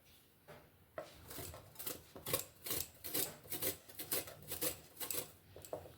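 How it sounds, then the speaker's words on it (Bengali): Peeled ginger, about an inch long, grated by hand, giving a steady run of close, rasping scrapes in a quick repeated rhythm with short pauses between strokes. "এবার 1 ইঞ্চি আদা ছাড়িয়ে নিয়েছি, এটা গ্রেট করে নেব।"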